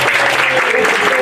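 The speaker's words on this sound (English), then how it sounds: "Give her a huge round of applause." A brief, loud burst of audience clapping rises as a woman is invited up on stage, dense and close for just over a second.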